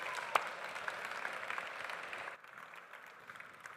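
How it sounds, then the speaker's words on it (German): A small audience at a coffee festival in Switzerland claps at moderate volume, the applause thinning and quieting toward the end after a brief sharp clap near the start. "dann nochmal ein riesiger Applaus für den Dario Pieber"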